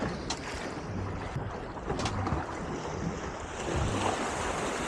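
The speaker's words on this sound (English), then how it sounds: "Yeah, we're getting some rolling waves now." Rolling sea waves wash and slap around a fishing boat anchored over a deep offshore wreck between storms, a steady broad rush with wind buffeting the microphone and faint creaks, no talk.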